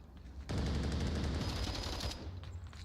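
An AK-12 rifle fires in the VR shooter Onward, indoors: one loud, sustained automatic burst lasting about one and a half seconds, then a fading tail.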